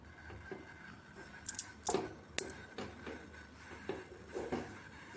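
Metal lid of a cooled pressure cooker being lifted off after cooking sambar, giving a few sharp metallic clinks and scrapes spaced over a couple of seconds amid a quiet kitchen.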